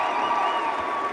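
A crowd cheering and shouting at an abortion-rights political event, a dense, steady roar of many voices held at an even loudness throughout.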